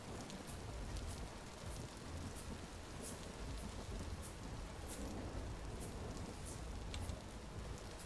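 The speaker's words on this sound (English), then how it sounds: "In the rain." Steady rain falling in darkness with scattered crisp drop taps over a soft continuous wash, faint and even throughout.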